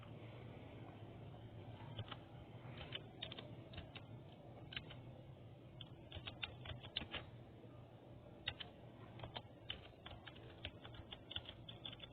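Keys clatter on a computer keyboard as a channel name is typed, in irregular bursts of crisp clicks and short pauses over a quiet, steady background hum, close and faint, with nobody talking.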